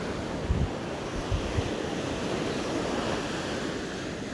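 Powerful ocean waves rumble and wash continuously nearby at Praia da Lagoa de Albufeira beach, Portugal, mixed with gusty wind noise across the microphone, with a few low thuds early on.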